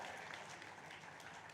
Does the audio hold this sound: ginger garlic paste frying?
no